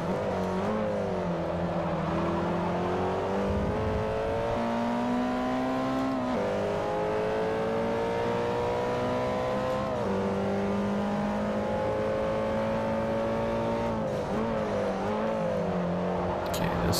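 Mitsubishi Evo X GSR race car engine in Forza Motorsport 4, droning steadily as it revs up and drops through several gear changes, continuous and close.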